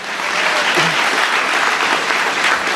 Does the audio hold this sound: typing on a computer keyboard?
no